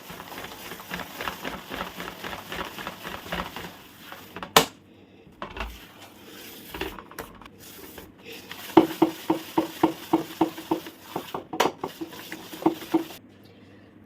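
Dough ingredients whisked by hand in a bowl with a hand whisk, giving rapid rhythmic clinking and scraping strokes against the bowl in two bursts, close and fairly loud, with no talking.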